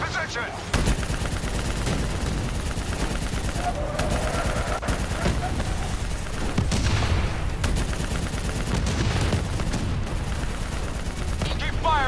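Sustained rapid turret gunfire from a mounted vehicle gun in the Call of Duty Black Ops 3 campaign, loud and nearly continuous for the whole stretch, with bursts, explosions and combat noise layered over it.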